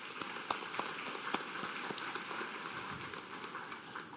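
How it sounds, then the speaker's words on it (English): Faint, distant applause from a seated audience at a nursing white coat ceremony, a dense continuous patter of many hands with occasional sharper claps. "If we can give Mr. Lucas a round of applause there"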